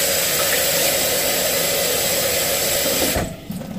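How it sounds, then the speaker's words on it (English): Tap water runs steadily into a kitchen sink while ingredients for gingerbread cookies are prepared, a constant close hiss that cuts off abruptly near the end, with no talking. "And I need to get room temperature water."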